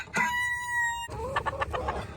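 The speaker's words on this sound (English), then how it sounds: "We have 13 chickens." Backyard chickens from a flock of thirteen, with a loud, steady crowing-like call in the first second, then a string of short, close clucks and squawks.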